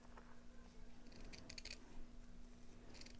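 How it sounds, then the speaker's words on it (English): Scissors cutting a piece of craft material in half for a shabby pink Christmas bag, heard as a few quiet, close snipping bursts over a low steady hum. "I want to cut this in half because it's a little bit too thick"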